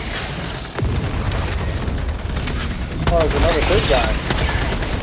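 Machine gun fire and heavy booms in Helldivers 2 rattle through a dense, continuous battle din, with bursts of gunfire over a constant rumble while a player talks over it.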